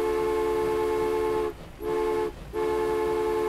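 A train in a UK-modded transport sim sounds a steady tonal horn three times, each long blast broken by a short gap, loud and close with no talk over it.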